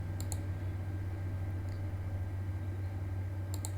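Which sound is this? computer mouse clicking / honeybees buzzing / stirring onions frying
computer mouse clicking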